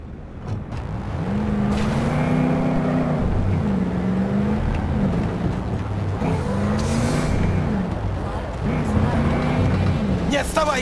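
A car accelerates hard during a chase in Cyberpunk 2077, the engine roaring and revving up in repeated rising surges, loud and close, with faint background effects.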